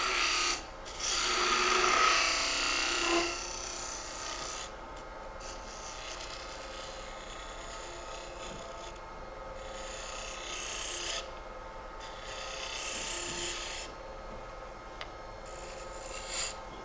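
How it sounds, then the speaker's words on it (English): A spindle gouge hollows a wooden ornament turning on a lathe, giving a continuous close rasping scrape that briefly pauses and resumes several times, louder at first and then steadier. "I'll switch over from my bow gouge to my spindle gouge"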